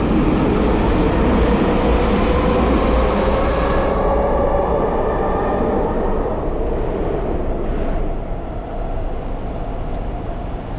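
Expo line SkyTrain at Metrotown station in Vancouver: a loud, close rumble and whine of the train running along the track, easing off and growing quieter in the second half, with no talk.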